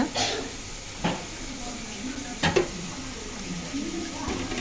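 Chicken pieces for mandi biryani deep frying in hot oil, a continuous bubbling sizzle with occasional clinks as pieces are placed in, heard close under a speaking voice.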